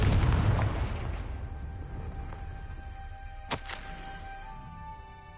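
A Confringo fire spell blast in Hogwarts Legacy hits with a heavy booming burst that rumbles and fades over a few seconds, followed by a brief sharp crackle.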